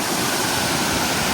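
Water pours out of a small waterfall in a steady, dense, close rush with no voices.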